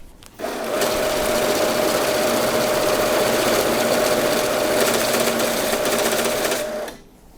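A Kisan Newton banknote sorter runs continuously for several seconds with a loud, steady mechanical whirr and rapid fluttering of notes feeding through, starting and stopping abruptly.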